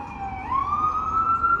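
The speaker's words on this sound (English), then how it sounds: "Oh, here comes another ambulance." An ambulance siren wails as it passes on a city street, a steady rising tone that climbs in pitch partway through and holds loud and close over low traffic rumble.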